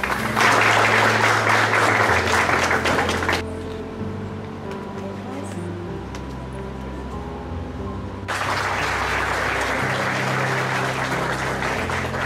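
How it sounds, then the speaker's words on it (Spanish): Audience applause at an awards gala for the Leadership and Excellence prize, part of the International Woman of the Year 2016 ceremony. A burst of clapping is followed by a quieter tonal stretch, then a second wave of applause rises. "Un fuerte aplauso para ella."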